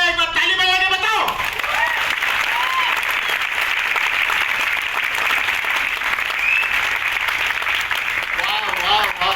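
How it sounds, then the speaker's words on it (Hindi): Loud, sustained audience applause fills an award event hall for about nine seconds, with a voice speaking over the clapping at the start and again near the end. "कैसा है एक बार ताली बजा के बताओ।"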